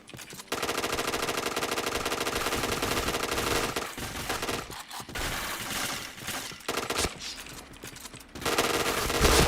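Rapid automatic gunfire from a video game, loud and dense, with sustained bursts broken by a few brief pauses and no talk over it.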